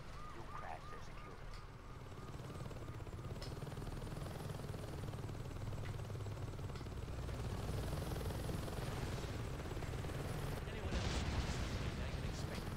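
Helicopter rotor noise fills a Saints Row 2 video game scene as the chopper attacks security stations, with steady low droning, scattered explosion and gunfire bursts, and a player talking over it.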